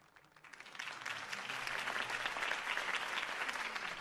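Applause from a large crowd after a speech in a video game swells up quickly and continues as a dense, steady clatter of clapping.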